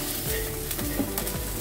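Onion, garlic and pirandai (adamant creeper) sauté in a pan, making a continuous close sizzle with brief scraping stirs throughout.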